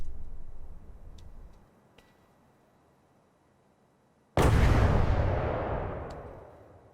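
A heavy weapon in the vehicle-combat game From the Depths fires on tank armour. Faint ticks and a quiet stretch come first, then a single loud, sudden boom that rings out and fades slowly.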